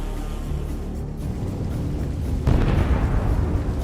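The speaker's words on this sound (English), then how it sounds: "The explosion was incredibly powerful." A deep, rumbling boom swells midway through as a drone strike hits a military vehicle's fuel tank, a heavy low blast with crackling debris noise trailing after, loud and sustained to the end.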